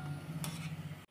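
Wheat-flour gulab jamun frying in oil and being stirred in the pan, a soft steady sizzle with a faint scrape of the spoon, quiet and close, then cut short.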